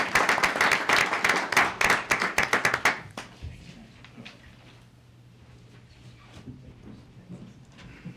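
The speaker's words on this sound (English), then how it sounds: "So, another round of applause." Audience applause at a city mayor and council meeting in Gaithersburg: about three seconds of close, brisk clapping from a modest crowd, then it stops abruptly and leaves quiet room tone with a low hum.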